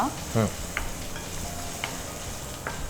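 Onion sizzling in hot oil with ginger garlic paste in a home cooking pan, a steady frying hiss with a few stirring scrapes and clinks, close, with a brief voice at the start.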